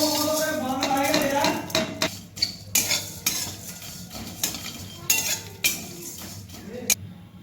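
Coriander, cumin and peppercorns dry roasting in a kadai, with a metal spoon scraping and clinking against the pan in irregular strokes over a faint background crackle.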